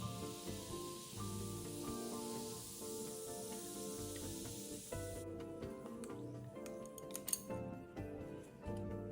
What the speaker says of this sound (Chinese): 最后再倒入雪碧汽水